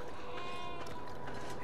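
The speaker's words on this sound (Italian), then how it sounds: "Le pecore là sotto." Sheep bleat in the Navajo chapter of the video game Beyond: Two Souls, a couple of short, faint wavering calls heard over quiet ambient game sound.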